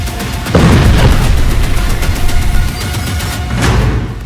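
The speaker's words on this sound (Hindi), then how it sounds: "तेल अवीव के बीचों बीच ईरान की मिसाइल गिरी है" An Iranian missile strike in central Tel Aviv, heard as a loud, sudden boom that rolls into a long, rumbling roar with crackle, loud and sustained.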